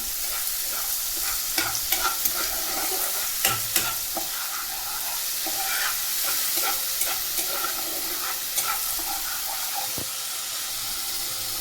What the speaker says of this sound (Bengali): দিয়ে এটাকে একটু ভালো করে কষিয়ে নিতে হবে।